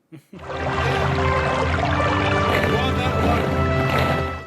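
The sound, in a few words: loud rushing water in a played movie scene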